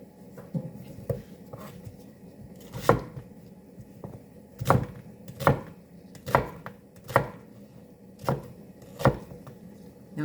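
An onion being chopped with a knife on a cutting board, each cut a crisp, separate knock, about a dozen spaced irregularly over a faint background hum.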